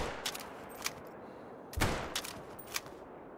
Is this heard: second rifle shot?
yes